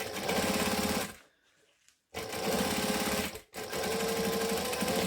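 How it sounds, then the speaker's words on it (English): A sewing machine runs a decorative top stitch along a fabric bag seam, whirring loudly in two steady bursts separated by brief quiet pauses. "I'm just sewing 1/8 of an inch from the edge of the seam."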